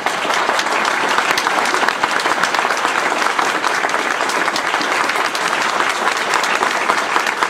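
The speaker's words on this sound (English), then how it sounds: "I think our three candidates deserve some applause." Sustained audience applause for three candidates at a political debate in the Annapolis area, a dense, steady roar of many hands clapping at an even loudness from start to finish, with no speech over it.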